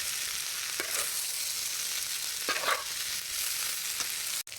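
Boiled noodles stir-fried in a hot pan, a steady close sizzle broken by a few scraping stirs and a sharp clank near the end.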